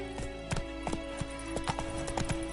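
Roach, the horse in The Witcher 3, trotting with steady, even clip-clop hoofbeats close up, a regular rhythm of hard strikes over a constant low ambient drone.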